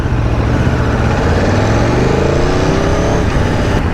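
An Aprilia Tuono V4 Factory motorcycle engine runs steadily while riding at low revs, a loud close-up drone with a rising pitch as it gently accelerates, no talking.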